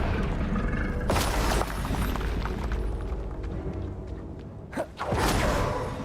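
A Confringo blasting spell explodes in the video game Hogwarts Legacy, with sharp bursts and booms around one second and again near five seconds over continuous game rumble, with no talking.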